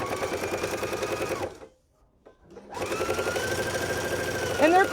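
A home sewing machine runs a quarter-inch seam on fabric in steady, close, loud mechanical chatter. It stops for a brief silence, then starts again and runs on.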